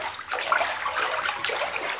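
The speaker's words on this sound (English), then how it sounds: "I still have a little bit more bomb going off." A bath bomb fizzes in bath water with a continuous bubbling hiss and light splashy trickling that holds steady and close for about two seconds.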